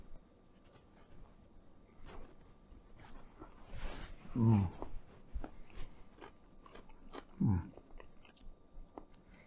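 Close crunching bites and chewing of southwest deviled eggs topped with Tajin and slightly sweet pickled jalapenos, two distinct bite bursts over a quiet room with soft mouth sounds.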